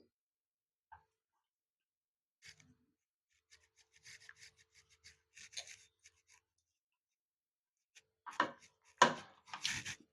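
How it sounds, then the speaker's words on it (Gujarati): A knife cuts through bread pakodi spread with mawa, giving faint scattered scrapes and taps, then a few louder crisp slicing strokes near the end, close and quiet. "અને હવે આપણે આને કટિંગ કરી લેશું"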